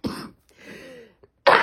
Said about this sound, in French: chaque vidéo, je tousse